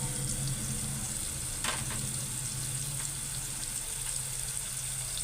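Cumin and garlic frying in a pan while chilli powder cooks, a steady close sizzle with soft stirring scrapes, one brief sharper crackle partway through, no talking.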